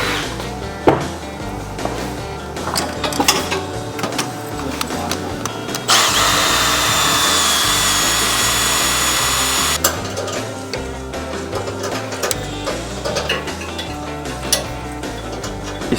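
A power drill bores out roughly quarter-inch holes in a shifter bracket for an Outlaw Pro Mod VW, with a sustained whine of about four seconds in the middle set among clanking, ratcheting and handling noises in a workshop.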